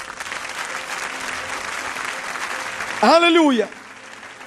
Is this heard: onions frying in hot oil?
no